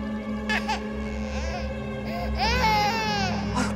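Infant wailing comes from a haunted doll, loud and close, in two drawn-out sobbing bursts, the second longer, above a steady low hum.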